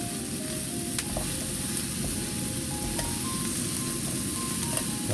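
Pork and onion stir-fry in a pan inside a camper van, a dense, steady loud sizzle with faint scraping of utensils, heard up close and uninterrupted.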